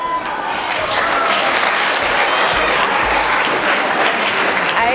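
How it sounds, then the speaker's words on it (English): Primary school pupils applaud a volunteer at a careers event, a loud burst of close clapping that swells quickly and stays full for several seconds. "Give them a clap."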